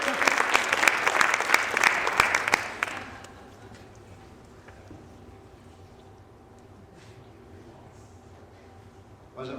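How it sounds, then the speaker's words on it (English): An audience at a school safety night event breaks into loud, dense applause for several seconds, then the clapping dies away into quiet room tone with faint murmurs. "a big round of applause for Sgt."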